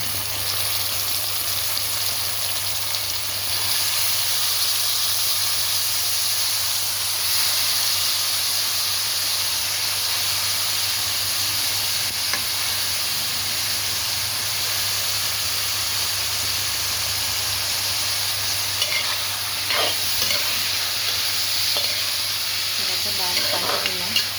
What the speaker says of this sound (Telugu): బాగా వేగిన తర్వాత ఇప్పుడు ఈ బరబటీలు వేసుకుంటాం